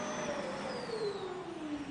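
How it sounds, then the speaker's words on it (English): Vacuum cleaner running during a consumer noise test comparing several models, giving a steady, continuous whirring roar with a slowly falling whine, close and alone without speech. "The testers are to evaluate the noise of several vacuum cleaner models."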